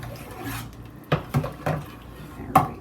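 Butter stirred in a pot for canning, four distinct scraping strokes of a utensil against the pot at uneven intervals, close and clear, with a faint background hum and no talk.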